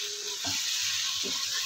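Turmeric, chilli, coriander powder and salt fry in a pan for korma over a medium gas flame, giving a steady close sizzle with faint soft stirring bumps underneath.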